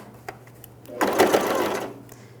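Close by, a sewing machine runs in one steady burst of about a second, sewing a tubular hem seam on a pair of jeans, after a brief quiet pause.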